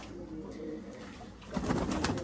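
Pigeons and doves at a busy pigeon market in Chattogram, with a steady low murmur of birds that swells into louder, denser cooing and fluttering near the end.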